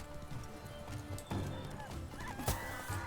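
Hooves of the horse Roach clatter at a gallop in The Witcher 3, a quick rhythmic clip-clop set in a busy game soundscape with music and effects, with a brief whinny and a sharp burst partway through.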